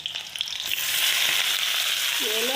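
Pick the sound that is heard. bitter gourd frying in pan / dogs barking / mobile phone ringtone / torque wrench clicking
bitter gourd frying in pan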